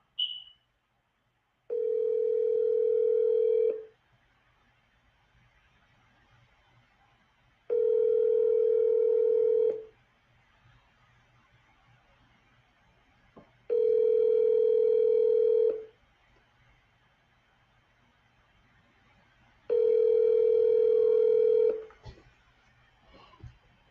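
An outgoing telephone call rings on the line: four long ringback tones, each about two seconds and separated by steady pauses, quiet against a faint background hum with no voices.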